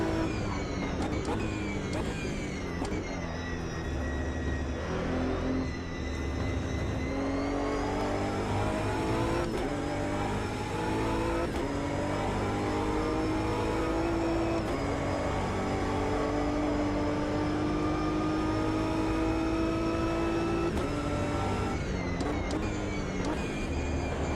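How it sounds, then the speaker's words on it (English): A faster-class race car engine in Automobilista 2 drones loudly and steadily from behind, its pitch climbing and falling through gear changes as it closes in. "I find the sound in this really pretty nice. It's a faster class car behind."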